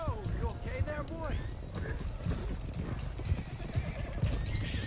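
Several horses in Red Dead Redemption 2 neighing and whinnying repeatedly while hooves clop along, with voices talking over the herd throughout.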